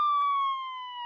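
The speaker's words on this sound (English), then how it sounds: "Suddenly, outside, they hear the sound of a siren." A police car siren in a single clean, tonal wail that slides slightly downward, loud and steady with no other sounds and no talking.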